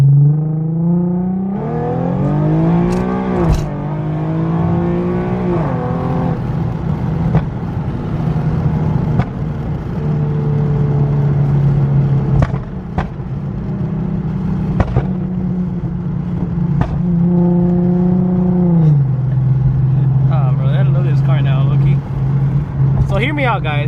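A tuned Infiniti Q50 with an exhaust leak revs and cruises close by, its engine note rising and falling while sharp exhaust pops and crackles burst out at intervals; a person talks over it throughout.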